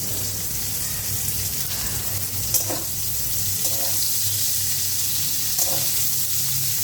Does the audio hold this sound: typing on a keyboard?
no